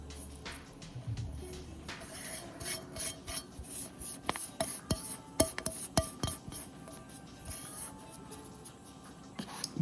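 Potato bajji batter mixed with chili powder, salt and a pinch of kesari powder is kneaded by hand in a bowl, giving soft, wet rubbing and squelching sounds with light clicks, close and steady, without talk.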